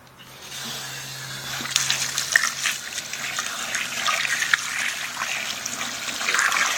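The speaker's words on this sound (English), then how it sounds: "I'll throw a little water in there" Water poured into a bucket of material, a steady splashing gush that swells and continues, mixing with sloshing as the contents turn soupy.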